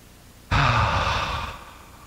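A single deep breath during a guided yoga session in a park, a loud, breathy exhale that starts abruptly and trails off over about a second and a half, heard alone without talk.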